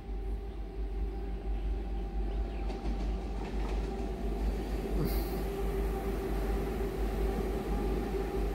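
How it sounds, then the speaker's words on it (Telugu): A Kirandul to Visakhapatnam passenger train rolls in, a steady loud rumble of wheels on rails with a faint high squeal partway through, heard close and continuous with no voices. "సో ఫస్ట్ అయితే మనం ట్రైన్ వచ్చేస్తుంది, ట్రైన్ ఎక్కేద్దాం పదండి"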